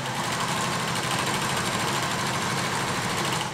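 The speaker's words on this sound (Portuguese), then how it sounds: "tô costurando e a minha linha ficou toda embolada" A sewing machine stitches fabric while its thread bunches up into a tangle, giving a constant, fairly quiet mechanical hum with a fast, even chatter and no talking.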